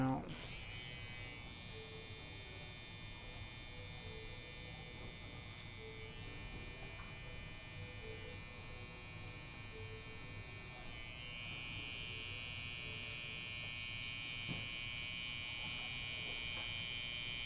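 An electric hair trimmer buzzes steadily while lining up a haircut, a close, high-pitched continuous whine whose tone shifts slightly as it moves, with faint talking underneath.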